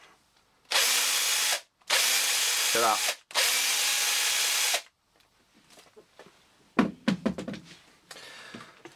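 A Makita cordless drill runs in three strong bursts on its recharged battery, each a loud, steady whine with brief gaps between, followed by softer handling clatter and a short spoken remark.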